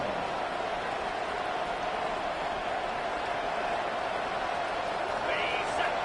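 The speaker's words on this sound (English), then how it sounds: "Listen to the crowd energy here in the early going." Steady crowd roar from a packed college football stadium in a video game, a continuous wash of cheering voices throughout, with a brief brighter swell near the end.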